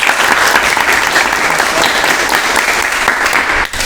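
Students in a classroom lesson on repairing clothes irons break into loud, continuous applause that holds steady before cutting off abruptly at the end.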